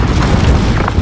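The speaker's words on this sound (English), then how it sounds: "Grenade! Grenade!" A grenade blast in Call of Duty: Modern Warfare (2019) multiplayer during a hardpoint match, a loud, dense boom rumbling through the full second with no quiet gap.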